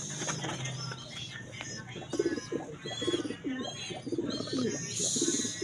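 Pigeons coo repeatedly at close range in a loft holding a breeding pair and their young grizzle squab, the throaty calls rolling in steady bursts over soft background rustle and faint chirps.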